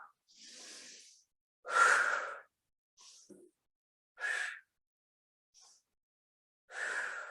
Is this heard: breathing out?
yes